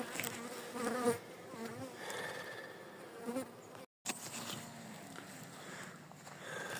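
Dense, close buzzing of many bees swarming around a hive, continuous with some brief rustles and a short dropout.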